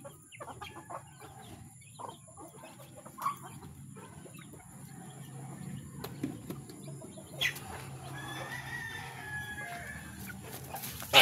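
A rooster crows somewhere in the middle distance over a busy farmyard of chickens being fed, with scattered clucks and rustling, the crow drawn out and fairly soft.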